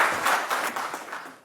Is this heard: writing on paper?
no